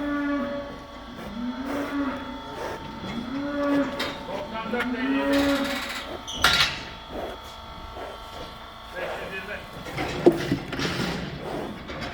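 A cow in a barn moos several times, each low call drawn out and rising and falling. Clanks and faint voices sound in the background.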